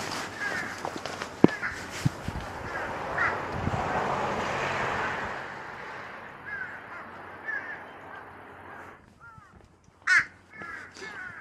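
Crows caw repeatedly in a windy winter setting on Jeju, calls scattered at moderate distance over steady gusting wind, with a few louder nearer caws toward the end.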